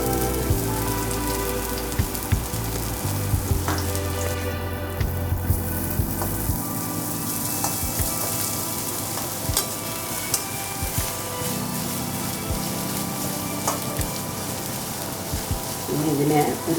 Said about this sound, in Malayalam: നമ്മൾ ഈ സവോള വറുത്തെടുക്കുകയാണ്